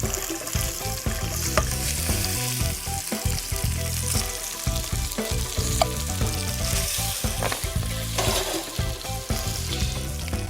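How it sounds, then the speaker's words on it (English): Sliced pre-boiled potatoes fry in olive oil in a pan, a steady close sizzle and crackle with occasional stirring scrapes, no talking. "start frying the potatoes until they get a nice golden crust"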